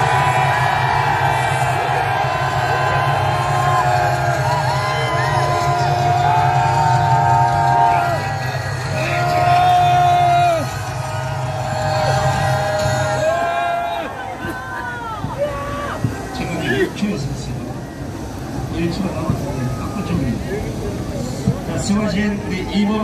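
A large outdoor rally crowd at Seoul Station on Liberation Day roars and claps after a loudspeaker call, cheering swelling loudly and then breaking into scattered claps and chatter as amplified talk continues.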